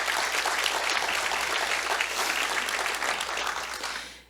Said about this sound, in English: Your job is to cheer loudly.